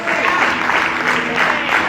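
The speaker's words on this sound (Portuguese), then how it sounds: "Vamos aplaudir ao nosso Deus" A church congregation applauds God together, a dense, steady wash of clapping that fills the whole two seconds at close range with little rise or fall.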